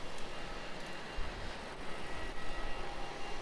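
Virgin Australia jet departing Melbourne Airport, a broad steady engine roar heard from a distance and continuing without a break, with no voices.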